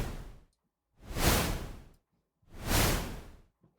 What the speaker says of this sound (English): really simple but really effective noise whoosh